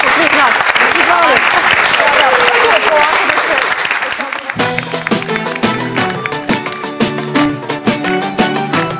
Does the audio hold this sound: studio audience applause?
yes